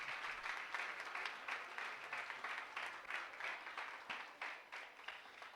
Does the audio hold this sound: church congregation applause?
yes